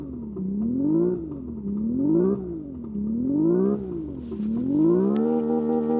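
Synthetic engine sound of a Hyundai Ioniq 6 N played through its internal speakers in a studio: a loud droning tone that rises and falls in four repeated revving sweeps, then holds a steady high pitch, with no talking.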